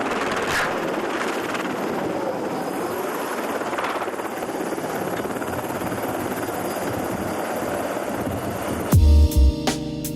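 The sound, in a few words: helicopter trying to take off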